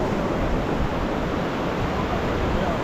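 A small waterfall beside a trail bridge pours in a steady, dense broadband rush of water, an even roar with no breaks across the whole stretch.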